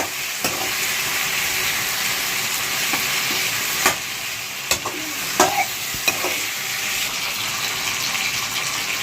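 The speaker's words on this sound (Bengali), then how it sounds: "এরপরে কিন্তু ভালো করে নাড়িয়ে নেওয়া হচ্ছে আদা রসুনের পেস্টটা দিয়ে" Ginger-garlic paste frying in a hot pan while being stirred, a steady bright sizzle throughout with a few scraping clicks of the spoon against the pan, close up and without talk.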